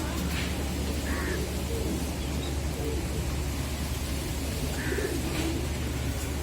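Chinese teddy pigeons held in the hand, giving a few soft, low coos over a steady hiss of background noise.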